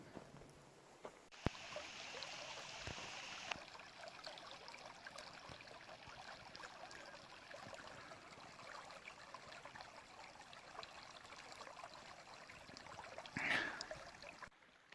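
A river stream flows steadily at moderate distance with a soft, continuous rushing wash, heard alone and faint throughout, with a brief clatter near the end.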